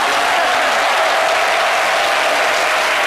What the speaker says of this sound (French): Je vous demande d'applaudir très fort Jessica Bomba